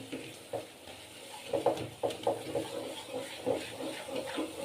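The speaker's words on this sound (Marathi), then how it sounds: "ह्या प्रकारे पटपट मिक्स करायचं आहे" Rice-flour modak dough being mixed briskly in a pan, heard as close, irregular scraping and thudding strokes with soft, moist squelches, gathering into quick bursts partway through.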